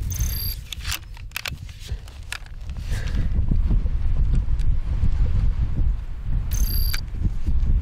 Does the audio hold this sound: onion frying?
no